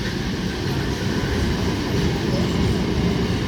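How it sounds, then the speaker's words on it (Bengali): An up Naihati–Bandel local train passes close by in a continuous loud rumble of wagons on the track, with faint rhythmic clatter; a voice speaks under it. "এই লোকাল ট্রেনটিও ব্যান্ডেল রেলওয়ে জংশন অভিমুখে যাচ্ছে"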